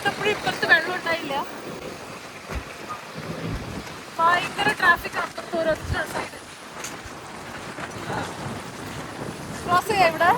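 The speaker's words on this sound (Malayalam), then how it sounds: "വല്ലാത്ത കാറ്റ്, ഭയങ്കര കാറ്റാണ്" Strong gusty wind and rain on a flooded Dubai street, roaring and buffeting the microphone in waves while a person talks over it.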